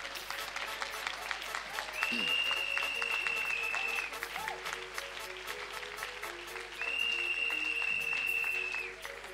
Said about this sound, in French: il faut acclamer le Seigneur